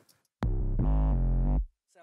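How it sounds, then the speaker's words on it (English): A synth note run through a distortion plugin, one loud, buzzy, harmonically dense tone of about a second that shifts pitch partway, with brief talk just before and after. "I have a distortion plugin here, Manny M distortion"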